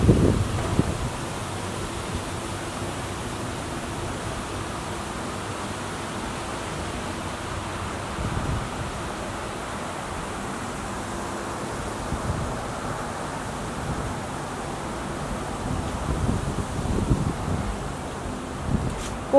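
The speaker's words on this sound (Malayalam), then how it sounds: "നല്ല കാറ്റ് വീശുന്നുണ്ട്." Strong, cold wind blowing outdoors, a steady broadband rush with gusty swells and faint rustling throughout, loud and continuous with no voices.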